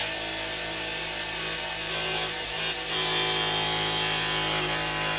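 A Ridgid Octane jigsaw cuts through wood for a corner vanity, making a steady, loud rasping buzz that continues without a break, close up, with no talking.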